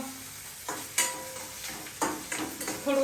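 Onions frying in a pan for masala dosa, a soft sizzle broken by several sharp clinks and scrapes of a utensil stirring against the pan, close and without talk.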